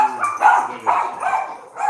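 Several dogs in a home bark in quick repeated bursts, loud and close, with a few yips between the barks.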